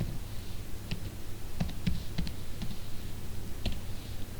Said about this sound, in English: For this we have to type this command.